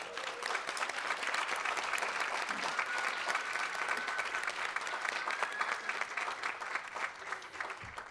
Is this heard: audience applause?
yes